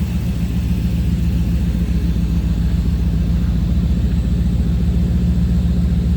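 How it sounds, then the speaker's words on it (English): Steady, loud engine of a 1929 Ford Model A Sedan Delivery street rod running without pause, a deep low rumble with an even throb throughout and no talking. "Good sounding car."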